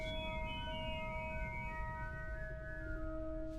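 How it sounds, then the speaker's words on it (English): Several thin, steady high synthesized tones from a Cherry Audio Lunaris 2 synthesizer hold and slowly shift in pitch over a low rumbling bed, a shrill dog-whistle-like effect with no talking. "It's like a dog whistle there."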